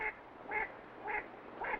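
Waterfowl calling from secluded river backwaters during spring migration, four evenly spaced quacking calls at moderate distance with no other sounds.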